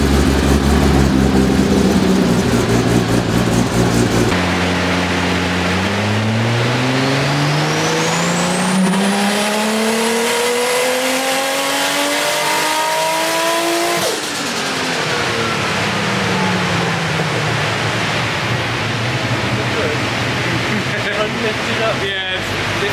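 A built air-cooled Porsche 964 Turbo, a 911 Turbo fitted with a screamer pipe, revs hard on a dyno. The loud engine note climbs steadily through a long pull, then cuts back sharply and settles into a lower drone.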